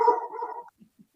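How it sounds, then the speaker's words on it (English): A dog barks once in a sustained, loud yelp that trails off, followed by two faint, soft low sounds. "that's my dog barking"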